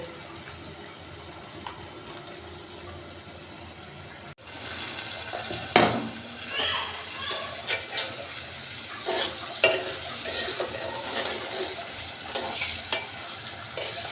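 Red potatoes fry in a little oil in a home kitchen pan, a soft background hiss that swells into livelier sizzling and intermittent stirring scrapes once the food goes in partway through.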